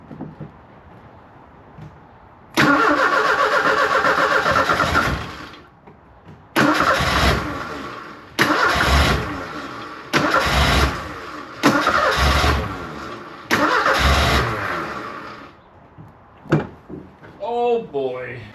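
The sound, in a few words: old sports car engine firing up on starting fluid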